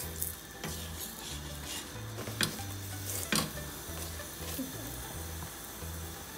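Puran poli sizzling in ghee on a hot griddle, a steady low crackle with occasional stirring and scraping clinks from a utensil, close and moderately quiet.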